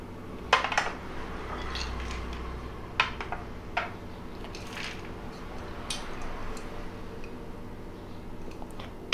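Washed dal and peanuts tipped into a pressure cooker pot in a home kitchen, giving a few sharp metallic clinks and soft rattling pours over a low background hum, with no talking.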